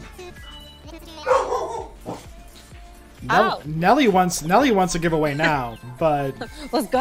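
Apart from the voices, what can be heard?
dog barking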